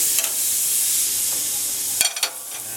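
Spiced meat marinated for a couple of hours sizzles on a hot grill for a Greek-style barbecue, a bright continuous hiss with a few sharp crackles and pops near the end.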